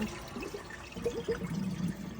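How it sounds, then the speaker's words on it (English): Rinse water drains from rinsed barley for cholent, a steady close sloshing and trickling with a few gurgling splashes, fairly quiet and without talk. "And take the water out, and now we got the barley."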